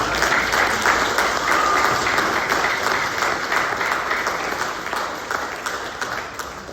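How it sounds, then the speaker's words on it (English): An audience at a high school band concert claps steadily for several seconds, a dense, even wash of applause filling the hall with no voices over it. "give them a round of applause"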